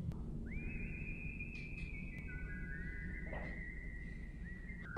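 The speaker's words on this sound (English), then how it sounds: "Okay, I'm enjoying the whistling." Someone whistles a slow tune alone, long held notes sliding between pitches, clear and fairly close over quiet background.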